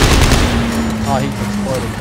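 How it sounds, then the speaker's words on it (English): Loud, rapid machine gun fire in Dead Space 3 on hard mode in a space setting, a dense close rattle running the whole moment while a voice calls out over it. "Machine gun fire!"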